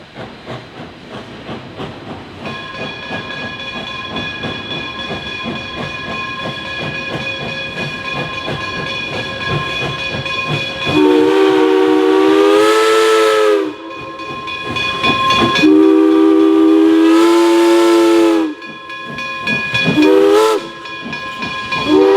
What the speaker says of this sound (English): Here we see the train exiting the rock cut and crossing the creek once again before passing our camera.